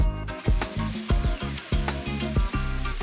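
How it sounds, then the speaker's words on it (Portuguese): Rice frying lightly in a pan, a steady soft sizzle running under loud rhythmic background music, with no talking. "Vou dar uma fritada de leve no arroz, até ele estalar um pouco."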